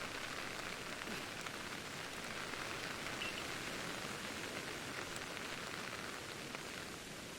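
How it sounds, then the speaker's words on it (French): Steady rain hisses evenly and without a break in Pokémon Legends: Arceus, a constant wash of rainfall under no speech. "Et là, il pleut."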